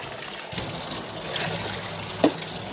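Strong water gushes and splashes steadily, fairly close, with a single sharper knock partway through and no talking.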